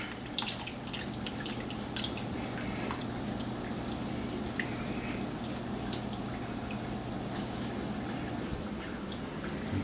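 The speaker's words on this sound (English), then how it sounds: "It's a strainer. We want to save as much of that broth as we can." Broth dripping and trickling through a kitchen strainer, a continuous close patter of fine drips with a faint steady hum beneath.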